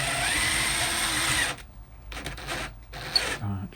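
A drill press bores through a steel shank with a harsh, grinding whir for about a second and a half, then gives a few short bursts as the bit is eased in.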